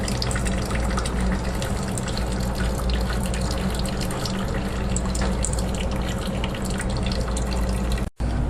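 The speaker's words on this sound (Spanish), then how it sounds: "Al aflojar las tuercas que lleva el termo, el agua irá fluyendo" Water carrying limescale flows steadily out of an electric water heater as its nuts are loosened, a dense, close splashing gush that runs without a break and cuts off abruptly at the end.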